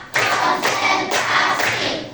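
A class of elementary schoolchildren at SD Negeri 2 Dorang claps in unison, about four crisp group claps in a steady beat, close and fairly loud with nothing else in between.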